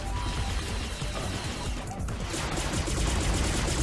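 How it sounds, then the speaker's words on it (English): Continuous gunfire from the P.N. 03 video game, a dense unbroken fusillade of rapid mechanical shots that stays loud and busy for the whole stretch. "Just kind of press A to shoot"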